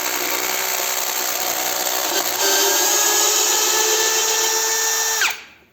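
A DRIVAK ED002 cordless screwdriver backs a large lag screw out of wood, its motor droning loud and close under strain for about five seconds, then rising in pitch before it suddenly cuts off.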